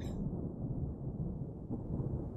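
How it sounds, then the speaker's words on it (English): Low rumbling thunder from a dry thunderstorm in the video game RimWorld, a steady, dense low roar sustained throughout with no rain or voices on top. "It's a dry thunderstorm."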